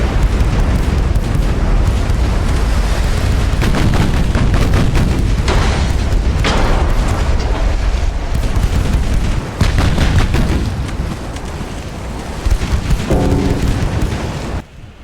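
Naval gunfire from a warship's 6-inch guns firing high explosive shells in the Ultimate Admiral Dreadnoughts game, a dense, continuous roar of booms and blasts that stays loud throughout and eases slightly near the end.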